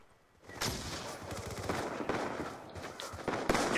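Close, loud shots from a Black Ops 2 multiplayer match, a run of sharp gunfire bursts starting after a brief quiet moment and continuing in uneven clusters with a final strong blast.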